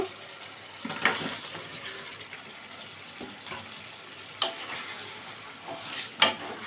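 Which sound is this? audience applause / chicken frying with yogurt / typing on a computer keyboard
chicken frying with yogurt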